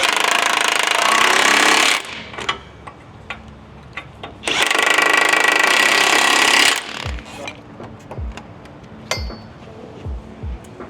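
An impact wrench works on an L5P Duramax truck in two loud, sustained bursts of rapid hammering, followed by scattered clinks and knocks of tools and parts.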